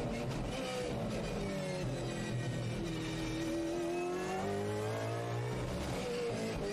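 A car drives and accelerates, with a continuous engine drone that slowly rises and falls in pitch, steady and fairly close throughout with no talking.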